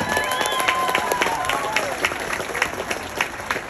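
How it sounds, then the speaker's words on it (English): Crowd at a county fair pig show claps for a young exhibitor and his barrow, steady moderate applause with faint voices mixed in underneath. "let's give that young man a nice big round of applause"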